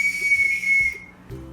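A small clay toy whistle blown in one sustained, high, bright tone that lasts about a second, then stops, close by with no voices over it.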